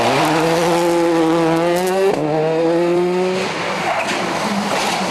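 A rally car spins on a stage of the 2006 Manx International Rally, its engine revving hard in a steady rising drone, then dipping sharply and climbing again before fading into rougher, muffled noise.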